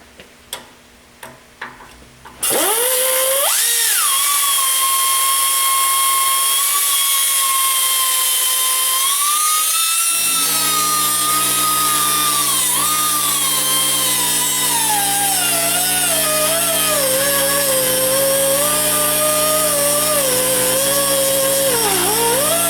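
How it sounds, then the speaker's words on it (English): A few short ticks, then a power tool cutting off a bolt on a car exhaust starts up and runs loud and continuously, its high whine sliding and wavering in pitch as it bites; no speech. "So the first thing we're going to have to do is cut off that bolt."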